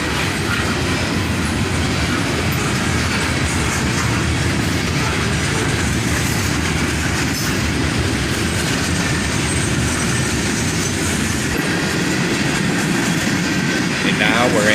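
A long CSX freight train's hopper cars roll steadily past close by, a constant heavy rumble with rhythmic clickety-clack of wheels over rail joints and occasional faint wheel squeal.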